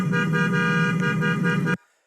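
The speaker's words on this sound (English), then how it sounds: "So these people honking their horn" A car horn blares in road traffic, one loud sustained honk lasting nearly two seconds before cutting off abruptly into silence.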